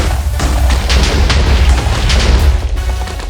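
A gunpowder-and-string explosive goes off in a modded video game, a loud sustained booming rumble with crackling bursts lasting a few seconds before easing off.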